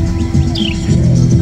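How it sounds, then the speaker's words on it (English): A bird at the Nashville Zoo gives a single short, high chirp over a steady low rumble of background noise. "Oh, the bird!"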